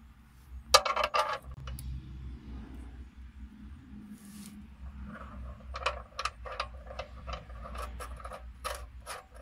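A drain bolt on a 1978 GMC motorhome is threaded back into the oil pan by hand, giving scattered metallic rubs, rasps and small clicks at close range with a low steady hum underneath and no talk.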